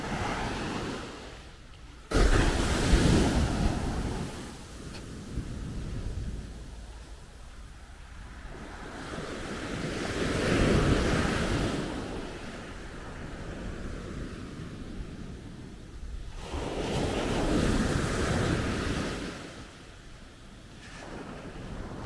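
Ocean surf breaks again and again at Natai Beach in Khao Lak, with rough waves surging and hissing in long swells, one sudden crash early on and further peaks mid-way, under steady wind buffeting the microphone.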